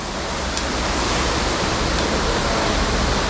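A 280-foot waterfall roars inside a deep river cave, a loud, steady broadband rush of falling water that fills the whole space without letup.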